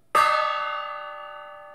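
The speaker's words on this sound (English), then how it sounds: "We'll get a gong on that one." A single gong struck as a hit hockey card is revealed, a sharp attack followed by a long, shimmering metallic ring that decays slowly, heard alone.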